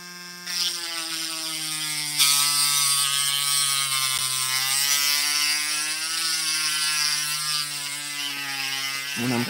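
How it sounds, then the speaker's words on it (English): Dremel rotary tool counter milling a Pac-Lock 90a Pro padlock, a loud, steady high-pitched whine with a brief pitch dip, running continuously and unaccompanied by speech before it spins down at the end. "So what I do is I counter mill them first, and then I'll show you the other Dremel piece I use"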